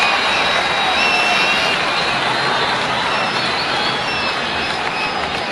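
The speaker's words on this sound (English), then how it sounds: "The crowd find their voice finally." A large cricket stadium crowd roars after a boundary in a Sri Lanka versus Australia one-day match, a dense, steady wash of cheering and noise that holds loud throughout.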